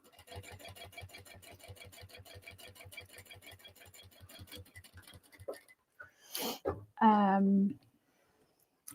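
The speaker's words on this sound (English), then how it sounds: "I am going to back stitch just to sort of reinforce." A sewing machine back stitching a crossbody bag, rapid even needle strokes for about five seconds that fade, then someone speaks briefly after it stops.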